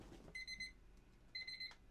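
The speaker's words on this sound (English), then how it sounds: "Am I beeping? Do I need my batteries changed?" Two short bursts of high electronic chirping beeps, a rapid cluster of tones, then a pause and another cluster, fairly faint against a quiet room.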